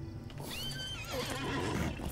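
A Clydesdale horse is summoned in the video game LOTRO and neighs loudly in a long, wavering whinny, with a few hoof clops underneath.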